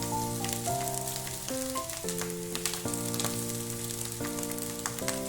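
Cooked rice fries in a pan for egg fried rice, a steady close sizzle running throughout beneath tuneful background music, with no voices.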